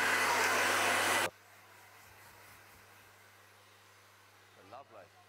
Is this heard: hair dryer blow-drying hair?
yes